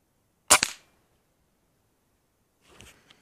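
An air rifle fires pellets at a target: a sharp, loud crack with a quick second snap, then a fainter, softer shot-like pop a couple of seconds later, with no talk.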